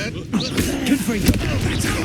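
A Confringo blasting spell in Hogwarts Legacy goes off with a short whooshing burst and a booming, crackling impact, loud and close, followed by a lingering rumble.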